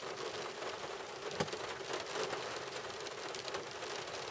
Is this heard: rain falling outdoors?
yes